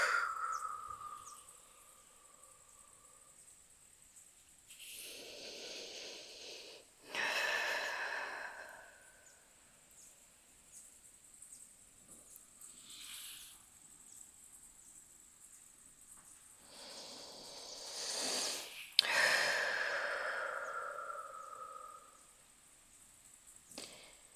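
Slow breaths during a quiet yoga session, several soft inhale and exhale swells spaced a few seconds apart, close and gentle against a near-silent room.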